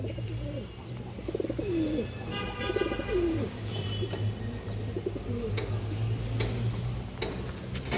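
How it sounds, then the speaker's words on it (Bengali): Soft, repeated pigeon cooing close by, low warbling calls recurring throughout over steady background hum, with faint ticking and bird chatter. "খুব সুন্দর একটা কবুতর"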